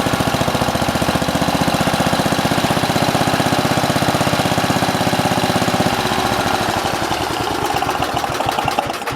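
A Simplicity 7010 garden tractor engine runs steadily after starting, a loud close rumbling drone with rapid regular firing pulses, shifting to a rougher, more uneven beat near the end.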